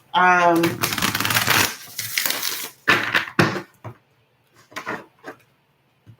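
A deck of oracle cards is shuffled in several quick papery riffling bursts. A person speaks at the start, and the shuffling continues alone in short separated bursts.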